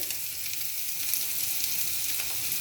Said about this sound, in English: Toss them in the hot oil so that the onions become translucent.